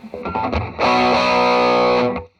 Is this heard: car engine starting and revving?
no